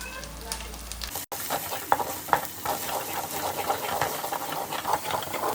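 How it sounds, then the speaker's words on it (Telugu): Boti curry masala of ginger-garlic paste, coconut paste and chili powder fries over a low flame. A soft sizzle runs under scraping spoon strokes and a few sharper clicks after a brief cut near the start. "పచ్చి వాసన పోయేంత వరకు లో ఫ్లేమ్లో పెట్టుకొని ఫ్రై చేసేసుకోవాలి"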